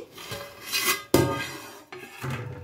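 A metal lid scrapes and clanks as it comes off a pot of chicken pulao, with a sharp close knock, grating rubs and a softer scrape at the end.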